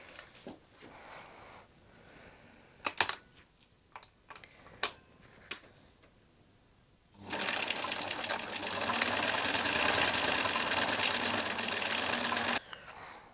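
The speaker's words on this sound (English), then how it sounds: "just sew along that short side" After a few scattered clicks and handling taps, a sewing machine runs steadily for about five seconds, stitching the short side of a sweatshirt dress neckband with an even, close whirring hum before stopping.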